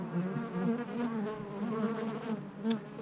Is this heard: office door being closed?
no